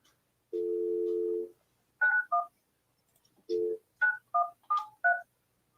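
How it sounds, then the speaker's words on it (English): Telephone keypad dialing tones: a steady dial tone, then a short series of paired DTMF beeps, another brief dial tone and several more quick beeps in an uneven rhythm, clear and close with no talking. "Making a phone call, Creed."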